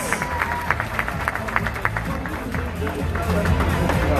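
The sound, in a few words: audience applause for the judges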